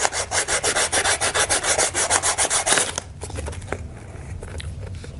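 600 grit sandpaper is rubbed by hand over a scarred metal shaft on a Stair Master 4000 stepper in quick, even back-and-forth strokes, loud and close for about three seconds before giving way to quieter scuffing.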